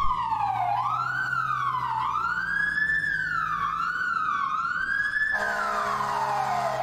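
Wailing emergency siren on a Manhattan fire response, sweeping up and down steadily and loudly, then switching to a faster yelp near the end, over a low engine rumble.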